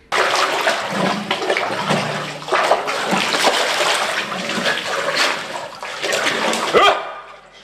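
A man plunges into icy water at minus 20 degrees, with loud continuous splashing and churning water at close range for several seconds before it cuts off.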